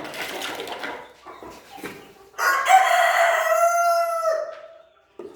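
A rooster crows once, loud and close, with a long drawn-out call, after some scratchy farmyard rustling and shuffling.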